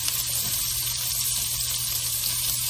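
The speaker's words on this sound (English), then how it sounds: "I'm going to take 1/2 cup of diced yellow onion and I am going to saute that" Diced yellow onion sautes in a pan for chili, a steady close sizzle with bright crackling hiss over a low hum, with no pauses.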